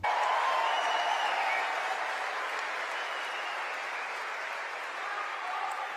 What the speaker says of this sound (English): listen to the reaction she gets from the young conservatives in the crowd